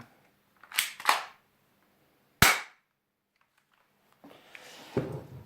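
A realistic-looking toy gun fires three sharp, loud cracks, two in quick succession and then one more after a pause, followed by faint handling noise.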